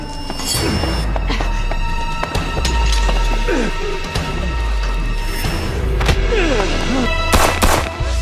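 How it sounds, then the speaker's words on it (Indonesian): Gunshots ring out in an action film scene as several sharp, loud bangs over a dense, rumbling soundtrack, with crashes and impacts scattered through eight seconds. "Dengan dua tembakan yang tepat mengenai kepala Bing Wen, mereka berhasil mengakhiri perjuangan sang penjahat."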